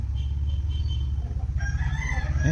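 A rooster crows at midday, its drawn-out call rising and falling over the last second, somewhat distant, above a steady low rumble of background noise.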